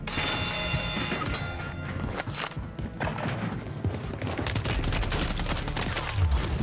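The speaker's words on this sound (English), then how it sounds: "Mortar support incoming!" Mortar support strike explosions in a Warzone 3 match crash and rumble repeatedly across dense, loud battle noise, with a steady barrage of impacts throughout.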